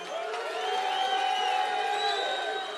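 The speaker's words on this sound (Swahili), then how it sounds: "pigeni makofi" A crowd at a political rally in Kisumu cheers, whoops and applauds for MP Oscar Sudi, a sustained roar of voices with whistles rising over it and holding steady throughout.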